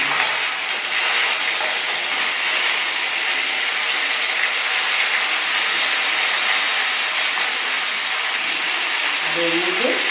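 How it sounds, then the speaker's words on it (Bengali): Tomatoes added to hot oil in a pan for a tomato chutney, producing a loud, continuous broadband sizzle that holds evenly throughout, with a brief voice near the end. "এবার এর মধ্যে টমেটোটা দিয়ে দিই।"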